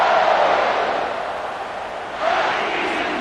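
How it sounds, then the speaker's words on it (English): A full stadium crowd roars loudly and steadily in a College Football 26 game between Washington State and Washington, the dense roar swelling again partway through. "This crowd, full throat, splitting the eardrums and letting them know it's going to be a long day"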